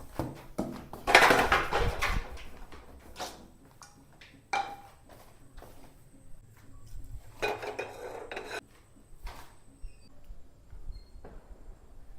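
Pots and utensils clatter and scrape in a home kitchen during cooking, with scattered metallic knocks and rubbing sounds at moderate distance and quiet stretches in between.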